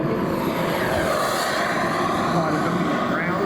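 A CARF Models MiG-17 jet model makes a low, fast pass at an air display at Weston Park, a steady loud engine roar with a voice talking over it.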